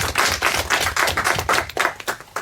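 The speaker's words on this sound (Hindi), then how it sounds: "इसके लिए हम सब इनका एक बार उत्साहवर्धन करें ताली के साथ।" Studio audience clapping in encouragement for a contestant on a quiz show, brief dense rhythmic hand claps, close and fairly loud, with no talking.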